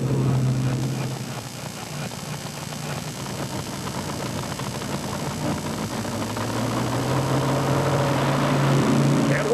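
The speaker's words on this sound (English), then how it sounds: "1990 Silverado Chevrolet powered by 650 cubic inches of janky motor" A 1990 Chevrolet Silverado 4WD pulling truck with a 650 cubic inch engine rumbles at a grand national truck pull, its deep engine drone swelling steadily louder over crowd noise and faint announcer talk.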